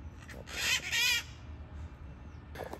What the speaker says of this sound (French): Là vous entendez les perroquets là-haut, regardez-moi ça.